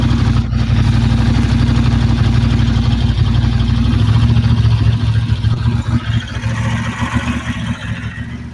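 A motorcycle with a 90-degree V-twin engine, likely a Ducati, runs steadily at close range with a deep, throbbing rumble that loosens into uneven pulses toward the end.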